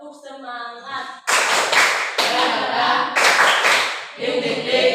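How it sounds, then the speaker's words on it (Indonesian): A class claps together in a steady rhythmic spirit-clap pattern, loud and close, in bursts that follow a short sung chant from several voices. "Tepuk semangat"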